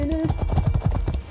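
Horses gallop in an Elder Scrolls Online player-versus-player battle near a keep, with rapid, loud hoofbeats thudding in a steady rhythm and a brief whinny-like tone at the start, while a player talks over them.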